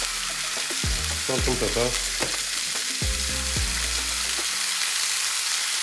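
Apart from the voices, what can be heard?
meat sizzling in pan in its juices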